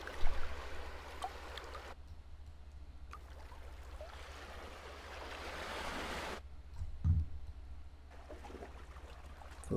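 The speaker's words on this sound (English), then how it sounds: "calm sea." Soft, steady wash of calm sea water with gentle lapping, an animated nature sound in Twinmotion software, continuous and moderately quiet, with a brief louder splash near the end.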